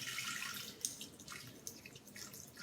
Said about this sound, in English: now I'm going to put in 125 grams of water. It's not boiling, it's just, I'm just using my kettle